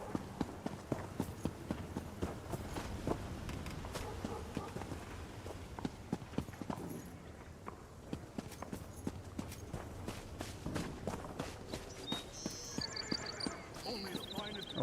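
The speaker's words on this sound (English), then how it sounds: "I hear the horses." Rapid, steady clip-clop of horse hooves in The Elder Scrolls Online runs throughout with a brief whinny near the end, close by and fairly loud, with soft talk underneath.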